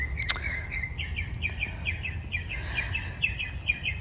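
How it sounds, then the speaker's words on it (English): Small birds chirp in a front-yard garden with a rapid run of close, bright tweets and one sharper call, over a low hum of background noise. "Birds are happy."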